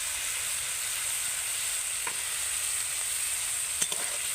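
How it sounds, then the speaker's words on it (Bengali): Potatoes with salt, turmeric and chili powder sizzle continuously in a frying pan, with a couple of faint scraping stirs near the end; close and even, no voices. "ভালো করে একটু নেড়ে চেড়ে নেব।"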